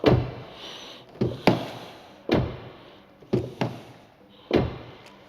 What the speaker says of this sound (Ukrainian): Відчиняються дуже приємно важкі і зачиняються, зверніть увагу.